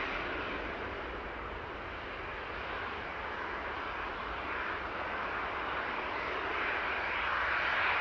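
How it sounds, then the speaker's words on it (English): A Sun Air Boeing 737 taxiing slowly at Newcastle airport with a flat tyre, its engines giving a steady broad roar that swells slightly toward the end, heard alone without talk. "the Sun Air 737 really trundling back"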